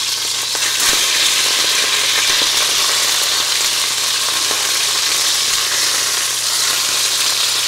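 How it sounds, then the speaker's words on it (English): Beef pot roast searing in a hot pan, giving a steady, loud, close hiss of sizzling fat with faint crackles and a low hum underneath, and no voices. "You can hear that sizzling."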